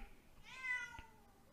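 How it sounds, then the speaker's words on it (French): A house cat gives a single clear meow, close to the microphone and fairly loud against a quiet room, followed by a faint soft knock. "Donc le chat miaule."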